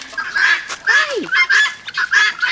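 Harsh, repeated squawking calls from a few guinea fowl nearby, loud bursts in quick succession with one lower honking note mixed in.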